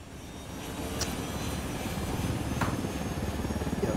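Helicopter rotor chopping steadily in Ghost Recon Wildlands, a loud continuous thrum that swells slightly toward the end, with no talk over it.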